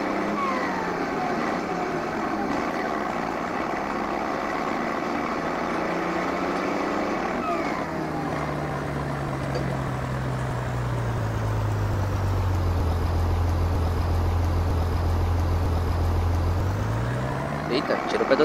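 The engine of a Valtra T7 tractor in Farming Simulator 19 drones continuously under load as it pulls, its pitch sliding lower and then rising again near the end, with someone talking over it.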